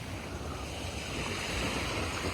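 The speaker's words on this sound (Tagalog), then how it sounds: "Dito kami ngayon sa ano, dagat." Sea waves washing onto a beach, a steady broadband rush of surf with some wind buffeting the microphone, continuous and fairly close, with no talking.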